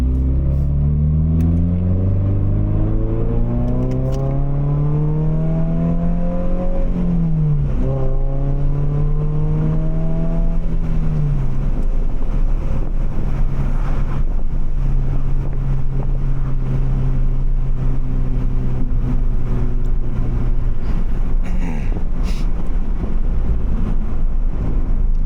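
A Subaru BRZ's four-cylinder engine revs hard while driving, with rising and falling harmonic sweeps through gear changes, loud and close with wind noise over a steady drone.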